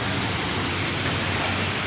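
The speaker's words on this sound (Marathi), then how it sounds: "प्रचंड असा पाऊस आणि वादळ वाराही थोडीफार आहे" Heavy monsoon rain in Mumbai, with some wind, falling over a street where vehicles have stopped: a steady, dense broadband wash of rain noise, continuous and fairly loud, with no voices.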